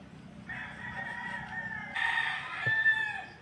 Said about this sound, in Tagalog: pagtuktugaok grabe kasaba mga manok